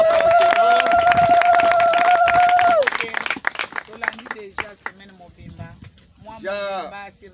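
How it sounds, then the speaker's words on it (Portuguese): A church congregation clapping hands together in a dense, steady patter over a sustained musical tone for about three seconds, followed by a person speaking. "Vamos bater palmas."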